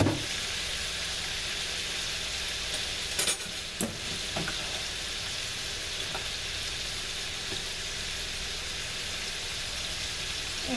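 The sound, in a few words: organic chicken thighs browning in a pan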